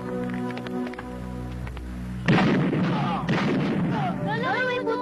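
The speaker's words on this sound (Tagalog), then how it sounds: "Putukan ngayon." Outdoor bursts of gunfire or firecrackers crackle loudly in a dense, rapid cluster that erupts suddenly after a steady background hum, with shouting voices mixed in beneath the popping.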